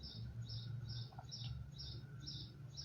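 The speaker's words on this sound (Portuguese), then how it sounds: "Escutar o som dos pássaros." Faint, distant bird chirps repeat in a steady, evenly spaced rhythm over a quiet low background hum, with no talking.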